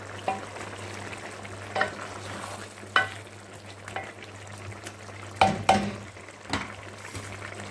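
Zucchini (ridge gourd) and potatoes fry in a pan over high flame with a soft steady sizzle, punctuated by occasional scrapes and clinks of stirring, close by.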